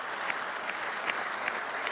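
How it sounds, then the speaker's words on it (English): Audience applause, a dense steady wash of many hands clapping at a moderate distance, continuing without a break. "there's a little bit of applause in there"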